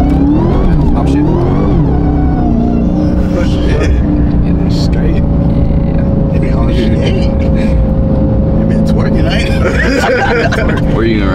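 A Dodge Hellcat engine climbs in revs, then steadies at a held, droning pitch as it shifts up through the gears. It stays loud and continuous, with voices talking over it.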